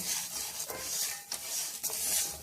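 Puliyogare spice powder fries in oil and is stirred in a pan, with a close soft sizzle and repeated scraping stir strokes in an uneven rhythm, without speech.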